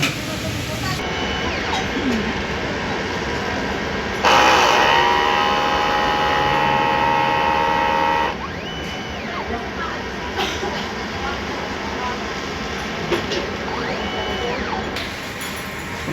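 A DTF printer running a print head cleaning cycle, with a steady mechanical whir and hum throughout and a louder, brighter stretch of whining motor noise in the middle, close and continuous.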